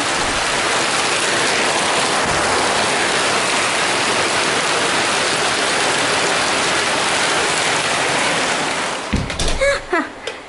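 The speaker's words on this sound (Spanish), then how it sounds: "No manches, ya está lloviendo." Heavy rain pouring down at a residential complex in Cancún, a dense, loud, steady hiss lasting most of the clip before giving way to a few clattering knocks at the end.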